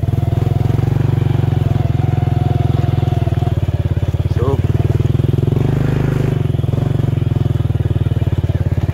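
A motorcycle engine drones loudly and continuously while riding on a rough road in Carcar, Cebu, its rapid pulsing putter steady throughout with slight shifts in pitch.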